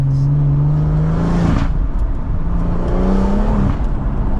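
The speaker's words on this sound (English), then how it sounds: "Nice 3 litre straight 6." A BMW M140i's 3-litre straight-six engine drones loud and close, its pitch climbing then dropping and climbing again as it revs, with a rough rasp underneath.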